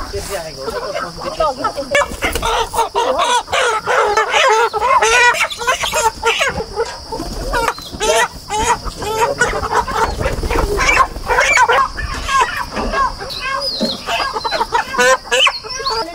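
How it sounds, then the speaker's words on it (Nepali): Broiler chickens are loaded for market from a shed onto a tractor. They cluck, squawk and crow loudly and continuously at close range, with people talking and handling noise throughout. "हामी कुखुरा पनि लोड गरिसक्यौँ"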